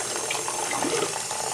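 Water pours steadily into a tub of vermiculite, a continuous close hiss of running liquid with no talk.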